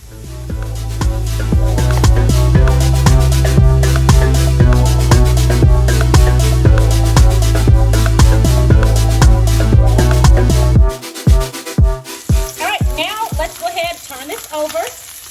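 Onions sizzle in a hot pan beside browning beef shanks, a steady, loud frying hiss under strong background music, then breaking into uneven spitting bursts near the end.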